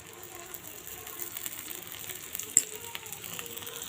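Thin wheat flour dosa batter cooks in oil on a hot pan, giving a faint, steady soft sizzle with a few small crackles and one sharper pop, no voices.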